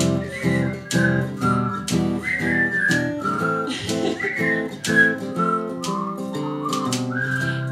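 A clear whistled melody from an audience at a live concert, with bright, sliding notes in a bouncy rhythm, played over a steady backing of other tones.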